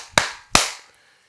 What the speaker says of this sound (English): we're going to clap 3 times